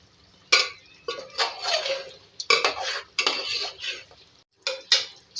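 Aloo baingan sabzi mixed in a pan with a metal spoon, a series of close scraping and clanking strokes in irregular bursts separated by brief pauses.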